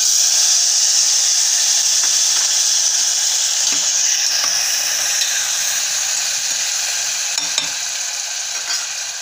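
Tomatoes frying in hot oil with a cumin, asafoetida and turmeric tempering, a loud, steady, close sizzle that stays constant throughout, with a few faint clicks of a stirring spoon.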